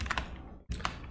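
Someone types on a computer keyboard with a few close, crisp key clicks. The clicks come in two short bursts separated by a brief silent gap.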